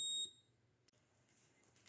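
A flame sensor circuit's buzzer, powered by a 5-volt battery, gives one short, loud, high-pitched beep at the start, then falls to a faint low hiss.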